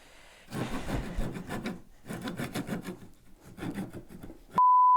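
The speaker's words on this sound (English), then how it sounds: "find a hacksaw that's wider with a metalworking side and then a woodworking side" A hacksaw's woodworking side cutting through wood, three runs of rapid rasping back-and-forth strokes, near and steady, ending with a sharp electronic beep, no voices.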